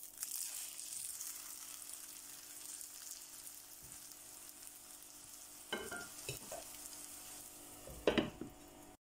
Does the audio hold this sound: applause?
no